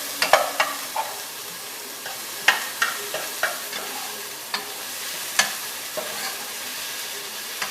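Shallots, garlic, ginger and carrots sweat in a pan while a utensil stirs them, giving a soft continuous sizzle broken by sharp, irregular scraping clicks close by.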